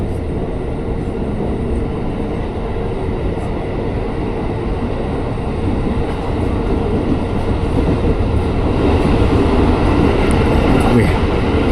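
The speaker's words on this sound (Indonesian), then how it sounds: "Wih, papasan sesama Tokyo Metro 6000 nih." A Tokyo Metro 6000 series commuter train on the Jakarta KRL line passes near Tebet station on New Year's Eve, a continuous loud rolling rumble with faint rail clatter building slightly toward the end.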